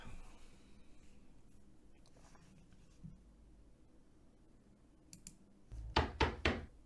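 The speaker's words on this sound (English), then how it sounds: "Someone's knocking at my door." Knocking at a house door, heard as a quick burst of loud, close raps near the end after a stretch of quiet room sound with faint clicks.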